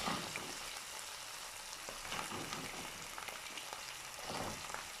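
Chicken gizzards go into a pan of frying peppers, making a dense, constant hiss and crackle close by. The sizzle has small swells and no talking over it.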